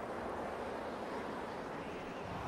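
Wind sweeps across El Romeral at twilight, about 20 kilometers from town, as a steady, loud, unbroken roar of broadband rushing noise with no pauses or distinct gusts.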